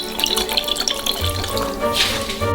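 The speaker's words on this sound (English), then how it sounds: "Also, I'll pour in some vinegar." Vinegar pouring and splashing into a frying pan, a close, uneven watery trickle with faint sizzling underneath, lasting a couple of seconds.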